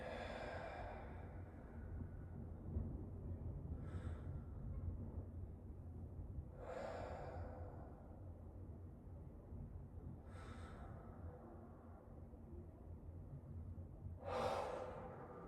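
Deep breathing during a breathwork exercise, slow rhythmic inhales and exhales with four sharper audible breaths at regular intervals over a faint steady background, close and moderately quiet, with no talk.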